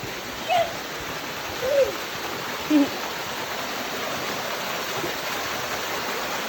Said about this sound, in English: Cascade Falls. We made it.